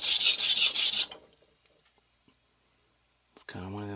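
Victorinox chef knife stroked on a whetstone while its bevel is set and repaired: about five quick, close rasping strokes, then near silence with faint clicks before a voice begins speaking.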